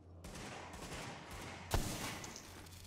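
Automated turret gunfire in Tom Clancy's The Division, a dense steady rattle of shots with one loud burst near the middle, continuing at moderate level to the end.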